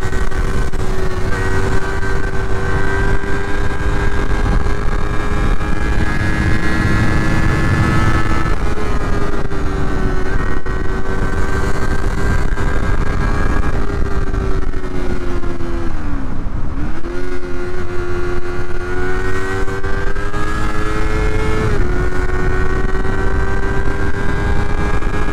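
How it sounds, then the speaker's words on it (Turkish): A steady, loud motorcycle engine drone with a raspy, stock-sounding exhaust note runs throughout, pitch rising and dipping slightly as the throttle changes, with no talking. "İğrenç bir egzoz sesi var."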